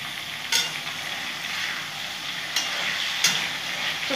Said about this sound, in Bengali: কপি আলু আমি এক ফোড়নে কপি আলুগুলো ভালো করে ভেজে নেব।